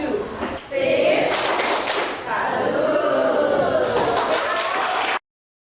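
A school class gives a salute clap together, with loud, close rhythmic thuds and claps that mix with children's voices and cheering for several seconds before stopping abruptly.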